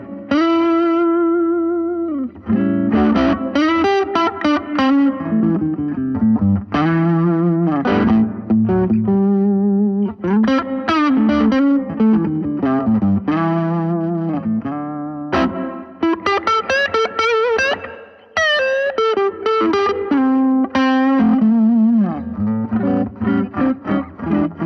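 An Epiphone Les Paul electric guitar, strung straight off the shelf and played through a small Vox MV50 amp, runs through a long, loud melodic passage. The tone is driven and effected with some reverb, and phrases of single notes and bends follow one after another.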